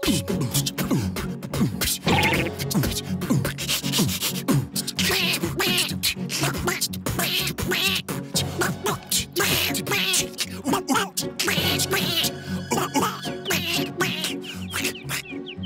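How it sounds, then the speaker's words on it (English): Loud, busy chorus of ducks quacking over lively music, many overlapping calls in quick bursts close by. "not those noisy ducks again"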